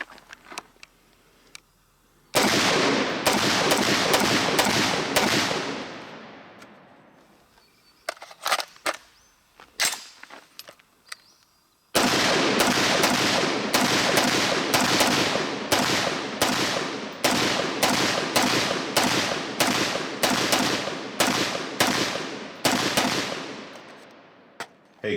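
Rapid strings of sharp 5.56 shots from a Karri's Guns Marauder AR pistol ring out loud and close, one burst after a short opening shot, a pause with scattered reports, then a longer run of fast, evenly spaced cracks.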